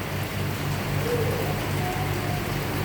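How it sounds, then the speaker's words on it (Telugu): Heavy rain pours down steadily in Kuwait, a dense, unbroken wash of drops hitting surfaces close by, loud and constant with no voices. "వర్షం అయితే ఘోరంగా వస్తుంది."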